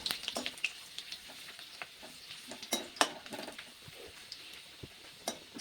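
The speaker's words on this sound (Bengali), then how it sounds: "ঢেলে আমি সব পাঁপড়গুলো প্রথমে ভেজে নেব।" Papad fries in hot oil in a home kitchen, giving a steady close sizzle broken by sharp crackles and pops, with no voices over it.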